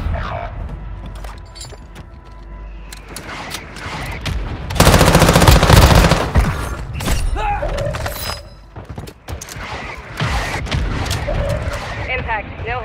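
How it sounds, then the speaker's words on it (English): A mortar strike lands in Warzone Mobile on Rebirth Island, breaking into a loud, dense burst of booming blasts and rattling gunfire for a couple of seconds. Busy game noise and voice chatter continue around it. "Mortar strike inbound now."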